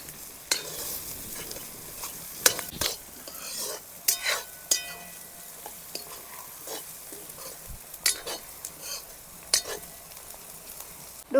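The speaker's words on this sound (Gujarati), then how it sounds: "લાલ મરચાંની કટકી, ઘડીક વાર આપણે ડુંગળીને સળવા દેવું." Onion and red chilli pieces fry in a pan in a village kitchen, a low steady sizzle broken by repeated scraping and clinking stirs of a metal spoon.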